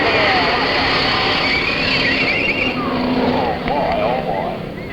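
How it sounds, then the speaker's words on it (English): Four Ford cars race bumper to bumper at a stunt show, a dense roar of engines in a continuous loud wash with a commentator talking over it. "Here they come, bumper to bumper and side by side. Four cars all clustered together, high in the air."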